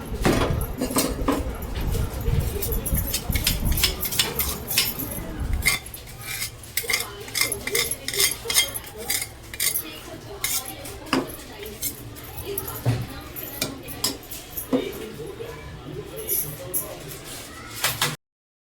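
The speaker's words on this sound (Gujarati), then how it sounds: "આમાં થોડું ડાલડા અને ચોખ્ખું ઘી મિક્સ કરીને આને શેકવું." Wheat flour for methi and gond ladoos being roasted in a pan with dalda and pure ghee, stirred with a metal spoon: busy scraping and clinking against the pan, louder for the first few seconds, then steadier, irregular taps throughout.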